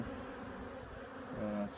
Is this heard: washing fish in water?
no